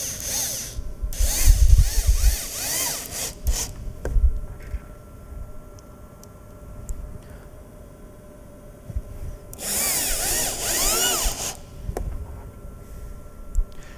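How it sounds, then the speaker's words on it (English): Power drill driving screws while a ShopBot Desktop CNC machine is assembled, with two loud whining bursts of the motor near the start and again later, separated by quieter handling clatter and clicks. "And let's screw away."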